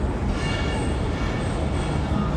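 The Pakistan Express 46 Down passenger train on its Rawalpindi to Abdul ul Hakim run makes a loud, steady, close rumble and roar with no let-up.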